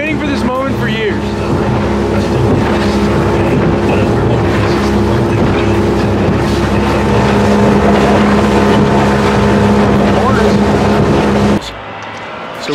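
A newly bought motorboat's engine drones loudly and steadily as the boat is driven, a constant close-up hum that holds for several seconds before easing slightly near the end.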